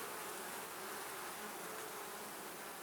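Honey bees buzz steadily at an open hive, a dense continuous drone from many insects, fairly faint and even throughout, with no talk.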